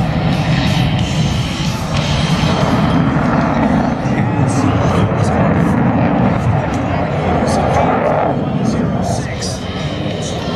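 An F-18 jet making a high-speed photo pass at an air show at Naval Air Station Oceana, Virginia Beach, a loud sustained roar with announcer talk and crowd noise.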